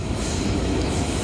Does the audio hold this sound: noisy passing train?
yes